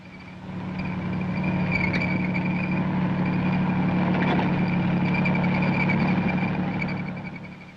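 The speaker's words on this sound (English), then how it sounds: "Its 450 horsepower diesel engine sustains a cruising speed of 35 miles per hour and a range of 220 miles." A 450-horsepower diesel engine on a self-propelled howitzer drones steadily at a constant pitch, fading in and out and heard alone.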